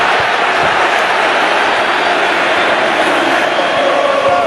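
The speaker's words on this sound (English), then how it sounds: "Got the crowd on its feet." A dense, roaring football stadium crowd at a Real Madrid versus Juventus Champions League night, cheering loudly and steadily throughout with no break.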